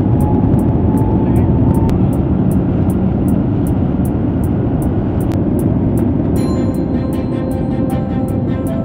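A Thai Airways airliner accelerates down the runway for takeoff, heard from inside the cabin as a loud, steady engine roar with dense rumbling and faint intermittent ticking, and no clear voices.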